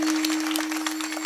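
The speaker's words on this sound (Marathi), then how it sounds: "टाळी वाजवा एकदा यांच्यासाठी." Audience clapping at a Marathi devotional kirtan gathering, a brief burst of dense applause at moderate level with a steady tonal hum underneath.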